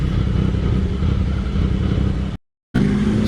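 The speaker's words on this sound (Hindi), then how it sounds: "स्ट्रीट ट्रिपल की आवाज़ तो बहुत ही दमदार आ रही है यार" A Triumph Street Triple fitted with an aftermarket exhaust drones loudly and steadily while riding with a group of bikes after an xBhp meetup, its engine cutting out briefly before returning.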